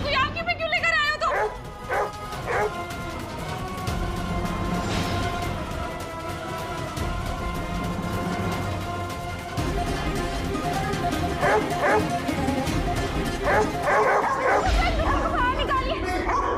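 Several dogs bark and yip repeatedly in an indoor domestic scene from a Hindi TV serial, sharp and close, mixed with overlapping voices.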